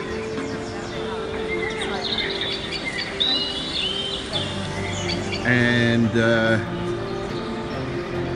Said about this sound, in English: If I get a bit closer to the speakers you can hear the birds chirping.